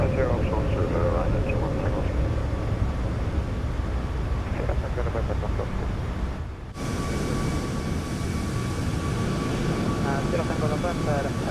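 Ryanair 737 MAX 8 airliner climbing after takeoff in a flight simulator game, a steady, loud engine roar and rumble that runs throughout, dipping briefly partway before resuming, with people talking over it.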